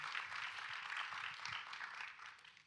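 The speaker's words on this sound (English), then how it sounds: "We can give these folks a round of applause for being here." Faint, steady applause from an audience, a soft continuous patter of clapping heard from a distance.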